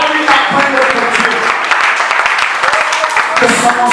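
A charismatic church congregation breaking into loud, dense clapping and acclaim, with voices rising through the clapping at close range and holding at full strength.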